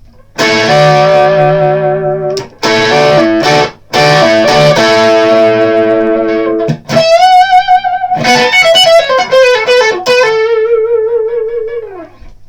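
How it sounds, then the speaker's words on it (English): Distorted electric guitar through an overdriven Vox AC30 amp plays gritty sustained chords, then a run of bright overdriven single notes, loud and up front with no talking. "let's hear the Vox now with some dirtier tones"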